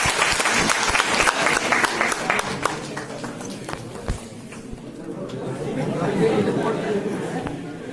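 Loud applause from a crowd at a prize-giving for an Urdu handwriting competition at a college, with clapping and chatter throughout, swelling again toward the end.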